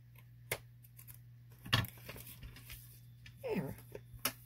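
A piece of paper being cut off with scissors while making a junk journal lap book, heard as a few quiet, separate snips and crinkles spread across a near-silent background.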